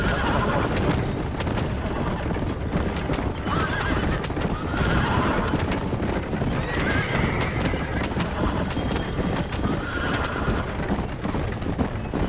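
A horse gallops in the Red Dead Redemption video game, its hooves drumming a rapid, continuous clip-clop with tack rattling. Loud whinnies break in now and then over a busy game soundscape.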